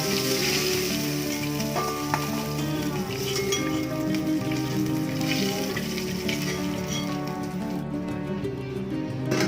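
Chicken frying in oil for a Kerala-style chicken macaroni, turned until both sides are cooked, gives off a steady, dense sizzle with light crackle that carries through the whole stretch at an even, fairly close level.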